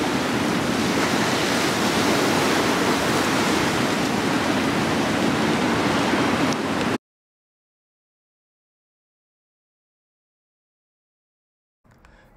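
Ocean surf at the Kapaa shore on Kauai, Hawaii, rolls as a steady broadband wash with some wind for several seconds, then cuts to silence before a brief return at the end.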